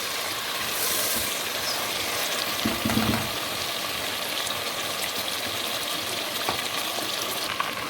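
Meat fries steadily for haleem in a pot, giving a continuous close sizzle with occasional soft scrapes and clinks of stirring.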